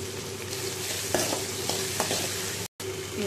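Chilies, onions and potatoes fry in a pan with a steady close sizzle, broken by a few scraping stirs and a brief cut to silence near the end.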